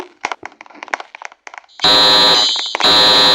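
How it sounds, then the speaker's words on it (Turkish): Scattered clicks and knocks give way to a loud, piercing alarm in the video game Brookhaven that blares continuously, breaks briefly, then resumes. "Alarm sesi buradan geliyor."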